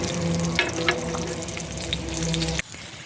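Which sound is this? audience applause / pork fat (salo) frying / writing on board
pork fat (salo) frying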